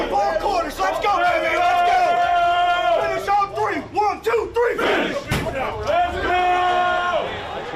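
A stadium crowd roars and cheers as the Kentucky football team takes the field, a loud, sustained swell of voices with chanting tones, dipping midway before surging again.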